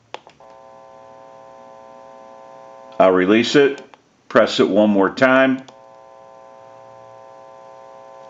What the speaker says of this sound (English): You may hear a little bit of an electronic hum.